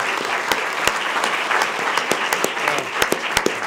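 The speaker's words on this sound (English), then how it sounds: "Let's give our girls tennis team from Mayfield High School a big round of applause." Audience applause at a school board meeting for a girls' tennis team, a loud, close burst of many hands clapping with sharp individual claps standing out, continuous throughout.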